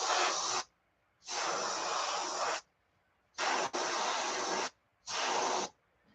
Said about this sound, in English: So let's make sure this is spraying okay.